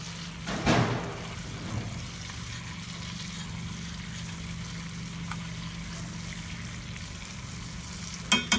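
Sweet potato slices fry quietly in a pan alongside sage leaves, a soft steady sizzle with an occasional stir or scrape near the start and end, heard close up with no voices.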